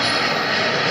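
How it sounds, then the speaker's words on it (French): Broadband roar of an airliner's jet engines overhead, a steady, loud wash of sound filling the whole short stretch without any voices. "Alors ça, voilà, c'est un avion,"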